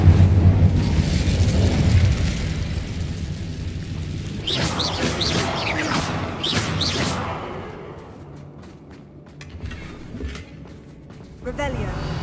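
The Incendio fire spell cast in Hogwarts Legacy makes a loud rushing, booming burst of flame that roars for several seconds and then fades into quieter crackles, with a voice speaking over parts of it.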